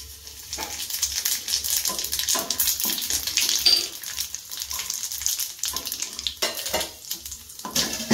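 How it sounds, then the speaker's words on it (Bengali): Whole cumin seeds frying in hot oil with bay leaf for ghugni give a busy, close sizzle with sharp spitting pops and short bursts of crackle that rise and fall, with no voices. "এবারে দেবো আমি গোটা জিরে"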